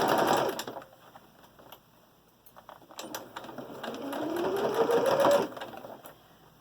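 A sewing machine stitches around the edge of a fabric mask in steady, rapid whirring bursts, pausing briefly in the middle before running again close up with no talk.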